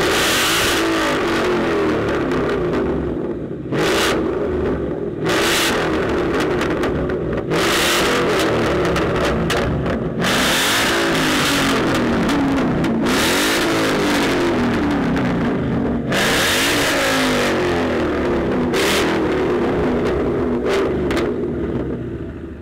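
Ford Mustang engine at a British motor show, revved hard in repeated loud bursts for over twenty seconds, a rough, throaty roar that rises and falls close up with no talk over it.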